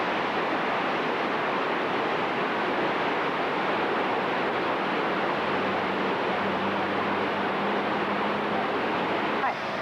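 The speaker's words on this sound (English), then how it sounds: "the most interesting aspect of Triberg is the waterfalls that come through here" Waterfalls in the town of Triberg in the Black Forest give a loud, unbroken rushing roar of falling water that stays constant throughout, with no talk.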